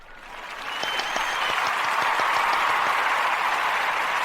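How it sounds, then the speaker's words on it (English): An applause sound effect: a crowd clapping swells quickly, then holds as a steady, loud, dense patter of many hands with no voices over it. "And I'm going to do a little applause now."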